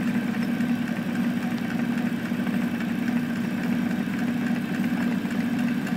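An old SUN distributor tester spins an Oldsmobile 4-4-2 distributor at about 200 RPM, giving a steady, even mechanical hum with a low drone that holds unchanged throughout.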